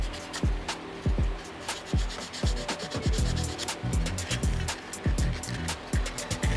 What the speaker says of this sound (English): all I'll do there is just run a little bit of sandpaper in that